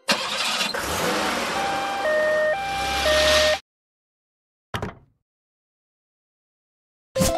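An ambulance engine turns over, then a two-tone siren alternates high and low pitches for a couple of seconds before stopping abruptly, followed by silence and short isolated sounds.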